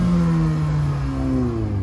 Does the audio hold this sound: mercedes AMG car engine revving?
yes